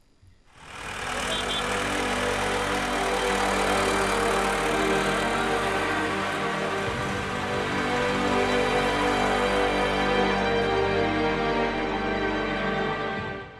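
Tractor engines run as protesting farmers head back home from Delhi, a loud, steady low diesel rumble that swells in quickly and keeps droning with some rough knocking before cutting off at the end.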